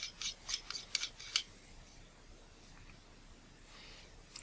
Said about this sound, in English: I'm able to unscrew